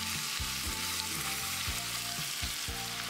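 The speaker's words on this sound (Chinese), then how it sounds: "再泼上热好的花椒油" Hot Sichuan peppercorn oil poured over crushed garlic and red chili flakes in a bowl sizzles loudly and steadily, with a few sharper crackling bursts as the oil hits, no talking.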